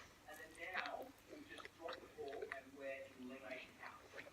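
Quiet, close chewing of a bite of Domino's pepperoni pizza with cheese and sauce, soft wet mouth sounds and faint crunches repeating in an irregular rhythm.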